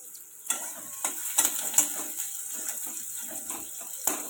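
Chopped onions dropped into a little hot oil for a salted hilsa fish and vegetable dish, giving a steady close sizzle under repeated scrapes and stirs from a spoon in the pan.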